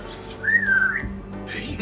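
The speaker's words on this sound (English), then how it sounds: "Did my whistle just echo?" A character in Assassin's Creed Mirage gives one short, clear whistle with a falling pitch glide, brief and close, over a low game ambience, followed by a soft rustle.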